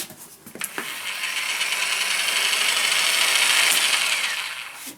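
Stark HM-1350 PRO construction mixer spinning up and running, a loud, steady high-pitched motor whine that rises after a few clicks and holds close and continuous.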